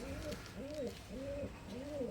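Teddy pigeons coo in a steady repeating rhythm, four soft rising-and-falling calls close by against a quiet background.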